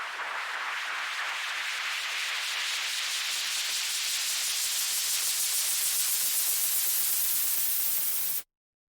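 Synth chorus effect with its feedback turned high and its rate steadily sweeping faster, producing a dense, hissing, static-like wash that grows brighter and more agitated over about eight seconds, then cuts off abruptly.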